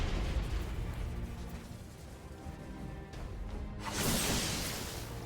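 A bomb goes off in Final Fantasy XIV battle, a broad roaring burst over continuous combat noise, swelling loudly near the end.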